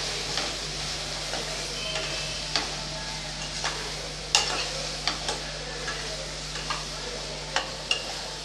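A spoon stirring roasted, ground sambar powder into vegetables in a pan for sambar rice, with a low continuous sizzle and a dozen or so sharp scrapes and taps against the pan spaced irregularly, close and fairly quiet.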